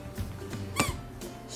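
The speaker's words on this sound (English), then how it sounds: "stronger squeak toy, like a more of a heavy duty plastic" A heavy-duty plastic dog squeak toy gives one sharp squeak amid soft rustling and handling noises, with fainter squeaky sounds before and after.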